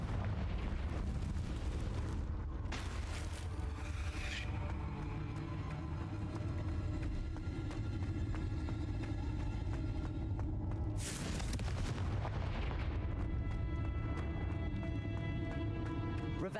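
A video-game Confringo fire spell bursting in a heavy, sustained roaring explosion that rumbles loudly for many seconds, with a second blast breaking through near the end.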